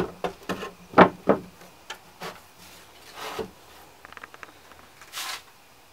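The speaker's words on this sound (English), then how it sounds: "I'm going over it with a tack cloth to remove any of the dust left over from sanding" Soft rubbing and wiping strokes of a tack cloth on a sanded wooden surface, a few brushy swipes with light taps between them, close and quiet, no voices.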